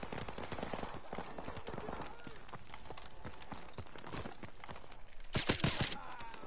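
Gunfire in Modern Warfare Remastered breaks out as a quick rapid burst near the end, over busy in-game noise of running footsteps and movement. A faint voice may be present.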